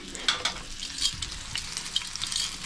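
Crappie fish fillets fry in hot oil on a home stove, a steady bright sizzle dotted with sharper pops and crackles, close and moderately loud.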